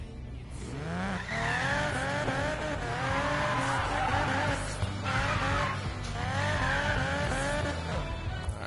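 A car boosted with nitrous in Need for Speed Payback revs hard and continuously, its engine pitch sweeping up and down through gear changes, with tire squeal layered in. Loud and close throughout, with no talking.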